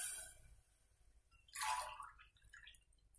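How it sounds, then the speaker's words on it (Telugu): Water is poured into a pressure cooker for tomato rice, with short dripping and splashing bursts at the start and again midway, close and faint, and no voices. "అంటే 3 గ్లాసెస్ వాటర్ వేస్తున్నాను."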